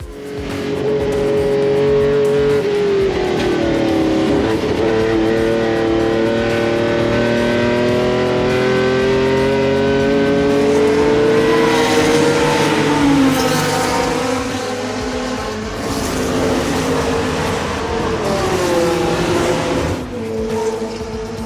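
Ferrari 512M race car at the Silverstone Festival, its engine roaring loud and close throughout with long rising and falling pitch sweeps through gear changes, no talk.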